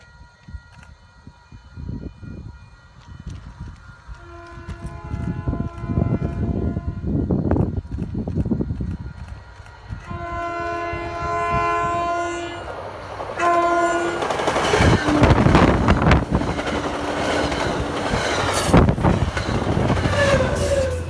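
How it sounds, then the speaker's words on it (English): An inbound MBTA commuter train races through a Haverhill road crossing at track speed, horn blasting in long tones over crossing bells, with loud rumbling wheels and rail noise building as it passes close by. "inbound 220 flew through Haverhill at track speed"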